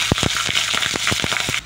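Hot oil in a wok spits and crackles as bay leaf, spices and green chillies go in, sharp popping bursts over a bubbling hiss, close and fairly loud.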